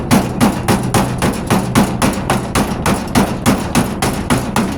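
Hammer blows knocking bondo filler out of the passenger-side wheel arch of a 1998 Ford Ranger, a steady rhythm of sharp metallic strikes, about three per second, loud and close.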